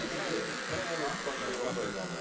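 Electric clippers buzz steadily while cutting a beard at a barbershop-style session, a continuous close hum running beneath people talking.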